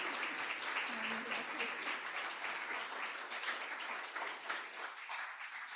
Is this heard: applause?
yes